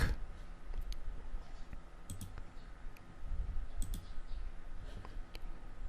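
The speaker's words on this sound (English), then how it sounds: "So I'll just click on undo again" Mouse clicks at a Linux computer running a video editor, a scattering of small, close clicks over a steady background hum with no talk.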